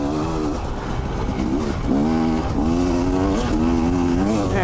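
A 2019 Husqvarna TE300i dirt bike engine drones steadily while riding a trail, its pitch rising and falling as the rider works the throttle, loud and close throughout with no talk.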